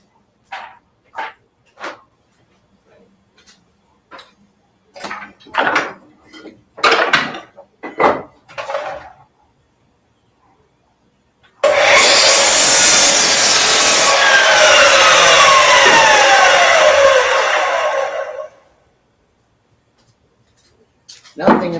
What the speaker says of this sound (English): I'm about to run the miter saw.